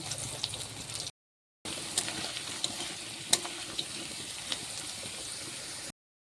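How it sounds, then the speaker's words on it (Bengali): Potatoes frying in hot oil for a paneer vegetable dish, a steady broadband sizzle with small crackles and pops, briefly cut out mid-clip, with no talking. "আলুটা ভালো করে ভেজে নেব।"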